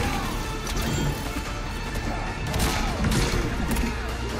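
Throw move in the fighting game Injustice 2 with Hellboy: a flurry of heavy crashing impacts and thuds packed into a few seconds, loud over game noise, with a voice talking faintly underneath.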